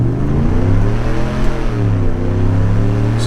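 Supercharged 2020 Hennessey Goliath 700 GMC Sierra Harley-Davidson pickup accelerating hard from 0 to 60, a loud, steady engine roar with rising pitch as it pulls through the run.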